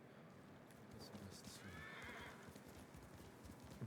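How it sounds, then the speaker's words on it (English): Horse in the game Ghost of Tsushima trotting with soft rhythmic hoof clip-clops and giving a clear whinny midway, fairly faint and close, with light background sound throughout. "Oh, there's my horse."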